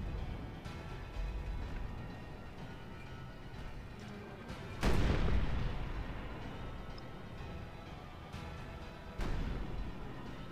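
Artillery fires at enemy cavalry during a Call of Warhammer multiplayer battle between Hochland and Stirland: two heavy booming blasts, the first loud with a long rolling decay, the second a few seconds later, over a low battle rumble.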